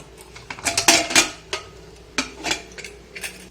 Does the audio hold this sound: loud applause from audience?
no